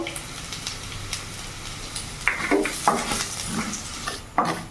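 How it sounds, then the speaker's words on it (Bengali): Chopped ginger and garlic fry in a pan for a chilli mushroom dish, with soft steady sizzling broken by several sharp scrapes and clinks of a spoon stirring against the pan. "আমার আদাটা একটু ভাজা ভাজা হয়ে গেছে"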